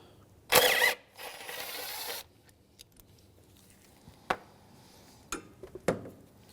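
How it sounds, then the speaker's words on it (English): A ratchet loosening a 10mm bolt on a 2007-2013 Mitsubishi Outlander buzzes in two rapid clicking bursts, one short and one longer, followed by a few scattered metallic taps and clinks, close and fairly quiet. "I'm going to head now and undo the 10mm bolt here."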